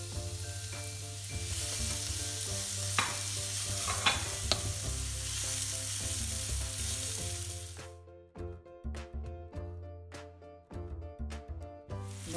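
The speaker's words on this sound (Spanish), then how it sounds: "Estamos poniendo esto, la cebolla con el dientito de ajo picado." Chopped onion and garlic frying in a pan, a dense close sizzle that drops away, followed by a run of sharp utensil clacks and scraping stirs against the pan.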